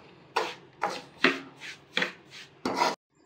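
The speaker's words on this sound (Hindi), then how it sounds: "इसको हम भूनेंगे, इसकी खुशबू आने तक इसको हम भूनते रहेंगे।" Semolina roasting in a pan for suji ka halwa gives six rhythmic scraping strokes of a spoon against the pan, crisp and close, with no talking.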